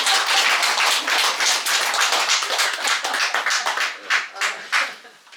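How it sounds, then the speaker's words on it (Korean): Congregation at a Sunday church service clapping, a dense, loud burst of many hands that thins into scattered claps toward the end. "뭐 박수 쳐주는 사람도 있는데."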